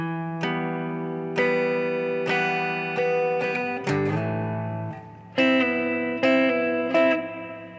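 A clean electric guitar plays paired notes, with quick pull-offs between plucked double stops, ringing clearly and alone at a moderate pace.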